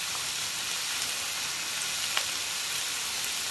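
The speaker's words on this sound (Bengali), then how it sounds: "দিয়ে আবার একটু ভালো করে নেড়ে চেড়ে আগে ভেজে নেবো" Spiced vegetables frying in a pan with salt give a steady, close sizzling hiss, with a faint stir or clink now and then and no talking.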